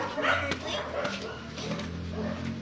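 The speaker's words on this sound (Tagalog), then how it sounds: "Yung aso ni Ma'am Brenda." A pet dog gives short, soft barks and whimpering yips mixed with people talking nearby in a home setting, moderately close and partly under the voices.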